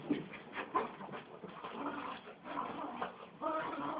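Dogs indoors whimper and whine in short, faint high-pitched bursts, with soft panting in between and a few louder squeals.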